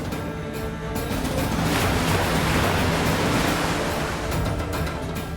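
Broad, steady ocean surf rolls and washes continuously at a fairly loud level, with a wind-like hiss swelling in the middle and no voices over it.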